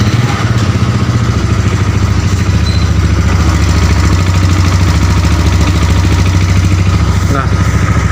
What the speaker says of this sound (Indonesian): saya akan melakukan kick starter aja seperti ini